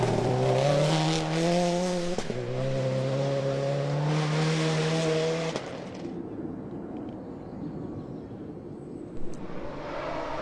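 A Subaru Impreza rally car roars past on a fast stage, its engine note climbing through gears with a gear-change dip, then fading away to quieter ambient noise.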